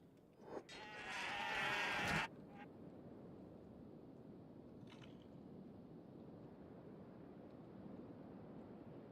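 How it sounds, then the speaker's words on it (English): Southern Hive fighting goats in the video game Kenshi let out one loud, harsh bleat for about two seconds near the start, then only a low steady ambient rumble remains. "And we've got Southern Hive fighting goats."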